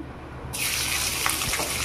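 Chopped onion drops into hot mustard oil in a kadai, and a loud, sudden sizzle bursts in after a brief quiet moment, then holds steady and close.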